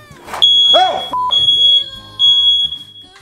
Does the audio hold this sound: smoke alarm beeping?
yes